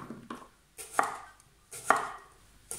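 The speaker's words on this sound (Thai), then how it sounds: "แตงกวานะคะล้างสะอาดนะคะหั่น อุ้ยหั่นธรรมดาเลยนะคะ" A knife chops through unpeeled, washed cucumbers on a cutting board for pickling, giving three crisp, distinct cuts at a steady interval, close and fairly quiet, with no talking.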